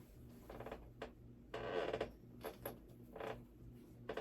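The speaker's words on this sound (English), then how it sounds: "Can you hear my chair squeaking?" An office chair gives a series of faint, irregular creaks and squeaks in a quiet room, short bursts coming every half second or so.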